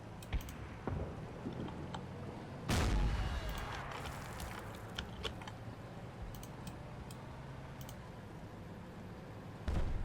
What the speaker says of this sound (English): Was that another hand grenade?